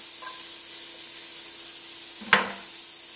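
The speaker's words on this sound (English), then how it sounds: "And then we're going to go in with some diced onion. As well as some diced garlic." Diced onion and garlic fry in hot coconut oil for Caribbean collard greens, a steady close sizzle with a brief sharp flare of crackle near the end.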